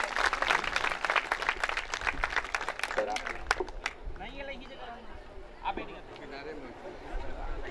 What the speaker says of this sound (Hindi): जोरदार तालियों से स्वागत कीजिएगा।